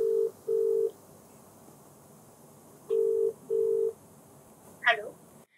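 Four steady DTMF-style telephone keypad tones sound in two pairs, clear and close, then a short electronic chirp follows, as a phone call is placed from a television talk program studio.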